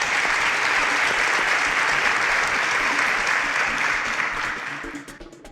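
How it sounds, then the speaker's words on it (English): A quiz show audience gives a loud, dense round of applause that holds steady before tapering off near the end. "Round of applause."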